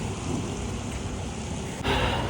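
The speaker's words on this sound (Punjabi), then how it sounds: "ਬਾਹਰ ਬਰਖਾ ਵੀ ਸ਼ੁਰੂ ਹੋ ਗਈ ਹੈ ਮੀਂਹ ਪੈ ਰਿਹਾ" Rain falls outdoors as an even, close hiss that holds steady and grows louder near the end.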